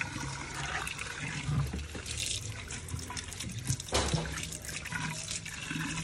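Water runs steadily from a tap at a kitchen sink while items from a fridge are rinsed, with splashing and clatter close by and no talking.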